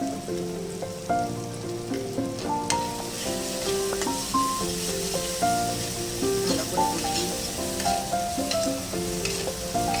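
Turmeric and dried chillies sizzling in oil in a frying pan, a steady crackle with a stirring rhythm and some tonal clinks running through it, close and even.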